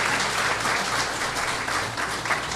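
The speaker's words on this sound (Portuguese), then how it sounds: "Então, palmas para ele," An audience at a talk on married life breaks into sustained applause, a dense and steady wash of many hands clapping that holds level throughout without pause.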